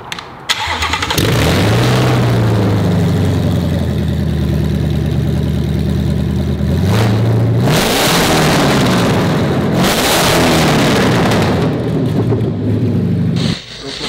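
A Ford GT350 V8 engine mounted on a running pallet cranks, fires up and idles loudly nearby, with a couple of sharp throttle blips and revs rising and settling between steady idle stretches.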